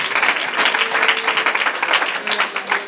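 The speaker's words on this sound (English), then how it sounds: "let's clap our hands to the Lord." A church congregation claps their hands in praise during a sermon on Ephesians, with dense, continuous clapping that holds steady and fairly loud for the length of the clip.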